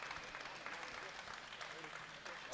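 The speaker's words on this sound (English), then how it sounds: "You must be able to hear the crowd shouting for her." A crowd at the Women's Open 52 kg World Classic Powerlifting Championships 2019 cheers and claps for a Swedish lifter, a faint, steady wash of distant applause and shouting throughout.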